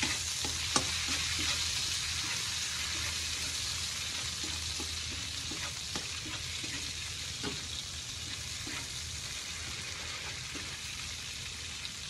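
Garlic and chili garlic frying in a pan, a steady broadband sizzle with scattered sharp crackles and pops throughout, close and continuous with no talk.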